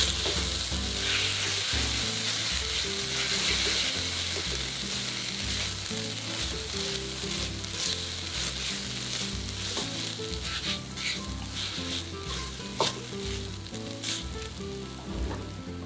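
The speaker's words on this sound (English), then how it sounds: "Keep stir-fry the spices until they are cooked and half dry." Spices and grated coconut stir-frying with tamarind sauce in a pan, a steady loud sizzle running throughout with repeated scraping and stirring knocks of a utensil, no voices.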